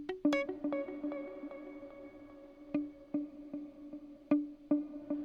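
Electric guitar notes plucked one at a time and run through reverb and delay effects, each pick ringing out with echoing repeats and a lingering wash that decays between sparse, quiet phrases.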